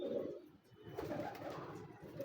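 A pigeon coos softly and continuously from fairly close by, a low, steady burbling with no other sounds over it; a female pigeon is paired with it.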